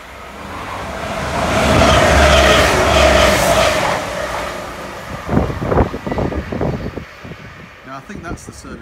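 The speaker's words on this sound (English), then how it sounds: "New train coming through now." A Class 195 train passes through a station in North West England, a rising roar that swells to a loud peak then gives way to rattling, clattering wheel and carriage noises as it goes by.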